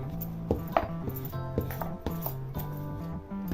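Rolling pin working layered lachha paratha dough on a board, giving soft repeated knocks and clinks with a low steady hum underneath.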